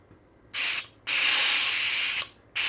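Airsoft pistol gas bleeding out through a worn O-ring, three bursts of loud, close, steady hissing, the middle one longest, with short silent gaps between.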